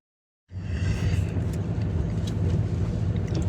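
Inside a moving car, a steady low engine and road rumble begins abruptly after a brief silence and holds at an even level, with some faint higher rattles and no speech.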